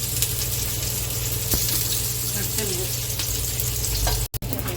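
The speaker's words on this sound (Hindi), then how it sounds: "तो ये जो है पराठे फ्राई हो रहे हैं।" Frozen ready-made parathas fry in a pan with a steady, loud, close sizzle that continues throughout, broken by a brief dropout near the end.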